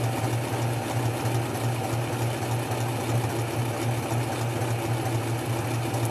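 A sewing machine stitches fabric for a mini messenger bag, running in a steady, even mechanical hum with a fast regular stitching pulse, close and continuous with no talking.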